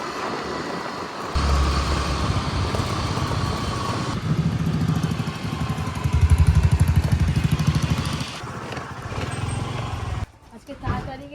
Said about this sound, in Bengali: ওই বাইকটা আসছে বলে একটু দাঁড়িয়ে আছি।